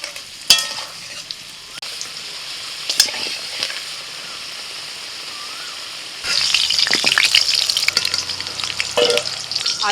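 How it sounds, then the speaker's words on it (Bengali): Potatoes frying in mustard oil in a wok, a steady mid-level sizzle with stirring clatter, briefly quieter before swelling louder and busier in the final seconds; no talk. "প্রথমে আলুটা ভেজে নেব।"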